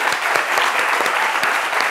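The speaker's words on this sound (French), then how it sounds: "Applaudissez pour lui." An audience claps steadily at a live stage event, a dense, even patter of many hands heard close up that holds for the whole stretch without a pause.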